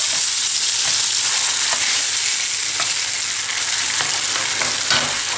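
Cream sauce sizzling and frying steadily in a pan with chopped chives nearby, with faint scraping of a utensil stirring it, close and continuous without talk.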